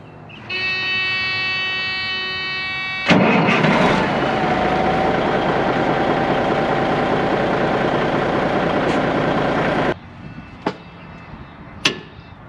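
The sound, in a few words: Freightliner FLD 120 truck engine cranking and starting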